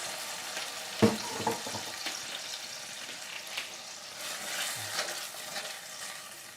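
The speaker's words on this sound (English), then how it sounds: "I'm going to just give these a quick stir" Tomatoes are stirred through a pan of simmering sauce, with a soft scrape and clunk of the spoon against the pan over a quiet, steady sizzle, and no talking.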